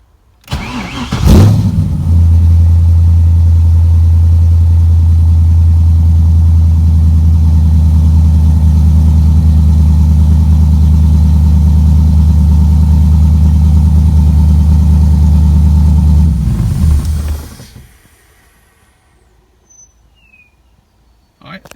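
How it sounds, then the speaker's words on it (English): A Mazda RX7 rotary engine cranks and catches loudly, then settles into a steady, rumbling idle for about fifteen seconds before cutting off into near silence, after an intake manifold refit and oil pressure sensor check. "All thing left to do is fire it up and see if it read oil pressure now."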